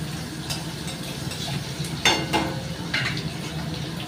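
Panch phoron spices crackle in hot oil with shrimp, a moderate steady frying sizzle broken by a couple of brief spatters and stirring clinks.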